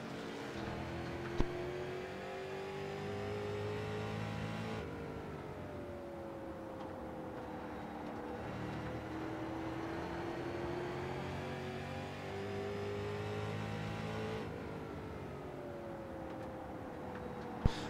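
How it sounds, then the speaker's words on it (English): On-board engine of a short-track race car in a sim racing game at New Smyrna, a steady droning whine whose pitch rises and falls through the laps, close and continuous with no talk. "Let's hop on board with Davey and listen on board"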